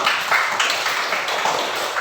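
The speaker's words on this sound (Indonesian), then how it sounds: "Kasih tepuk tangan untuk kelompok 2." A classroom audience claps for a student group after its presentation at a school lesson, with dense, steady clapping lasting throughout at moderate loudness and no talk over it.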